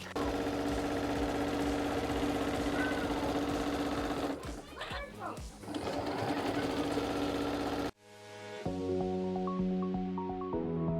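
A sewing machine fitted with a walking foot quilts fabric onto fleece, running in a steady loud whir that breaks off briefly in the middle, then stops and restarts with a lighter, more rhythmic stitching sound.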